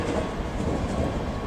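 A ScotRail Class 385 electric train departing Edinburgh Waverley for Glasgow makes a brief, steady rumble of wheels and running gear, close and moderately loud.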